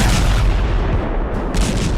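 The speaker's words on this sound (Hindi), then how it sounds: "जिसमें आसमान से दनादन बम बरसता है" Bombs exploding in an air strike: a dense, loud rumble of deep booms and blasts rolling continuously for two seconds, with no voices.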